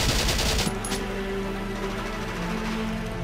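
Gunfire in the video game Valkyria Chronicles: a loud, close burst of shots at the start gives way to a steady, noisy rumble with a low hum running underneath.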